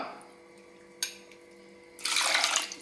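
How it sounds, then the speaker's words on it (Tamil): Water poured into a pressure cooker holding washed moong dal, a soft quiet splash and a brief knock before a louder steady pour fills the last second. "2 கப் அளவுக்கு தண்ணி சேர்த்துக்கலாம்."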